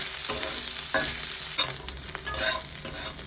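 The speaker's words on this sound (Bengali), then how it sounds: "কড়াইতে তেল দিয়ে মাছটাকে ভালো করে ভেজে নেব।" Dried shutki fish frying in hot oil in a wok, a steady close sizzle broken by several sharp stirring scrapes, with no voices.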